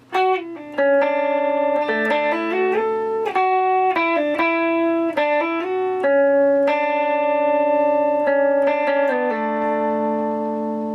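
An electric guitar plays a sustained melodic lead line with effects, notes ringing into one another with a shimmering, reverberant tone, steady and loud with no voices.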